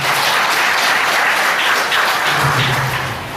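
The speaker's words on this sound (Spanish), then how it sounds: "quiero que lo recibamos con un caluroso aplauso." Warm applause from a conference audience at a regional forum, steady and dense clapping filling the room throughout, with no voices over it.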